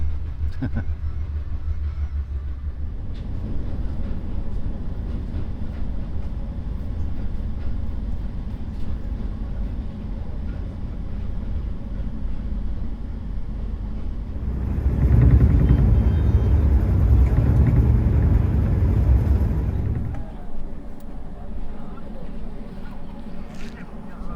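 A train arriving at Giza station in Egypt rumbles with low mechanical noise that swells louder for several seconds mid-way, then eases as it slows, heard from inside the carriage.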